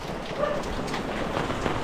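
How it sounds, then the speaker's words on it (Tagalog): Steady rain hisses across the whole clip, a dense even wash of drops with no voices, constant and fairly close. "Oh, kunting ulan pa lang."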